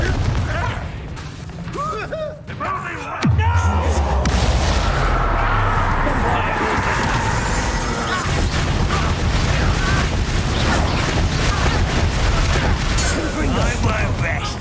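Confringo spell blasts go off in Hogwarts Legacy, loud repeated bursts and booms over dense, busy combat noise. After a brief quieter stretch the action jumps abruptly to a sustained heavy roar, with voices shouting at times.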